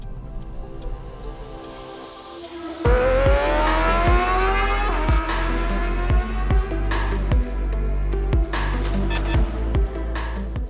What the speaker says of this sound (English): we're gonna go for a drive with the 2021 Kia Forte GT Manual